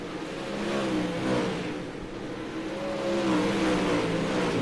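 Pro late model race cars battle for position at Limaland, their engines roaring loudly and steadily, rising and falling as the pack runs close together.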